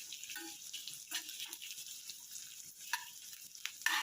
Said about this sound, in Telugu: ఇది బాగా వేగేలాగా కలుపుకోవాలి. ఆనియన్స్ బాగా ఫ్రై అవ్వాలి.